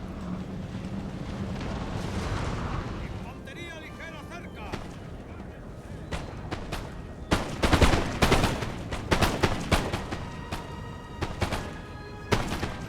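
Musket volleys and cannon fire in a Napoleon Total War battle, with scattered and clustered gunshot cracks and heavy booms of varying loudness, growing denser toward the end, mixed with game noise and a talking voice.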